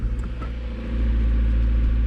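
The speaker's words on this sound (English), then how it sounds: "now the next thing is to start the car" A Honda Civic EK3 engine cranks over and catches, settling into a steady, close low rumble that grows slightly louder as it idles.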